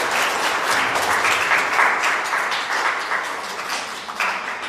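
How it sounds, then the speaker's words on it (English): Students and guests applaud at an interschool newspaper reading competition, dense crowd clapping that swells near the middle and gradually thins toward the end. "A big round of applause for yourself."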